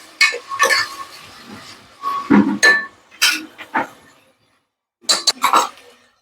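Metal spoon clinks and scrapes against a pot in short bursts as boiled vegetables for Surti green undhiyu are stirred together, close and clear, with brief pauses between strokes.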